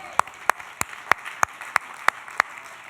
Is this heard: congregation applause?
yes